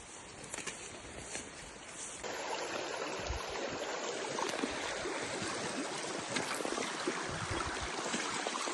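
Mountain river in the Maramureș region, where two streams merge, flowing with a steady, soft rushing wash that fills the background without pause.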